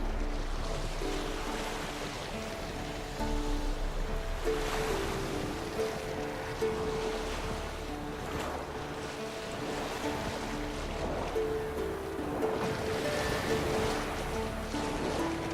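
A sailing ship cutting through ocean waves in The Witcher 3, with steady wash of surf and wind over the hull, joined by faint game music tones, continuous and moderately quiet with no talk.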